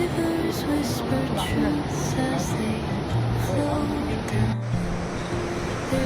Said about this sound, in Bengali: এই পাশ থেকে যে সমুদ্রের আওয়াজটা হচ্ছে না, এত সুন্দর লাগছে